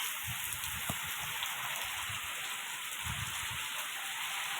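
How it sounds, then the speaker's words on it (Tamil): Heavy rain pouring down in a village, a steady close hiss of drops striking surfaces with occasional louder splashes, continuous and without voices. "இப்போ நம்ம ஊரில் மழை வந்துக்குது, ஃபுல்லாக தண்ணி இருக்குது"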